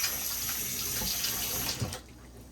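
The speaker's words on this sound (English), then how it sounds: "We're gonna wash our thyme." Water runs steadily from a kitchen tap as fresh thyme is rinsed under it for a curry, a loud continuous splashing that cuts off near the end.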